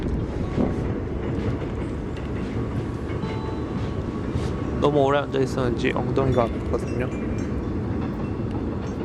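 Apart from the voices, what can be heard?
train passing by on Nodeul Island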